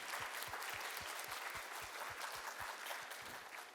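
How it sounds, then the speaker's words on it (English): An audience applauds at a high school Veterans Day program, giving a steady round of clapping heard from a distance, with regular low thumps running beneath it. "give one final round of applause for Studio 101, Terrell High School's audiovisual department"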